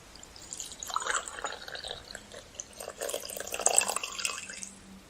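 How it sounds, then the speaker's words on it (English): Coffee pours into a cup in a steady, splashy trickle lasting several seconds, swelling near the end, close by with no voices over it. "I reckon I'll just pour myself a cup of coffee."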